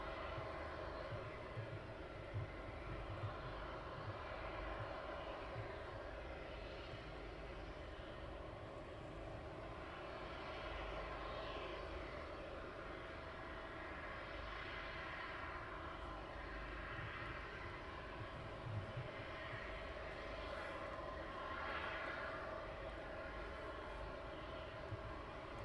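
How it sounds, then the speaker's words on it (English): An aircraft on approach to land at East Midlands Airport at night, a steady distant engine roar holding throughout with slowly shifting tone. "We have the lights of the aircraft coming in."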